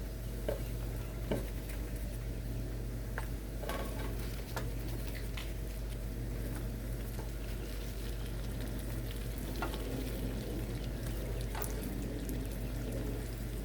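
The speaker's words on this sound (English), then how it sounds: "And now we'll add the shrimp." Shrimp sizzle steadily in a hot pan for Hawaiian garlic shrimp, a constant soft crackle and hiss with occasional sharper pops and light stirring clinks, no voices.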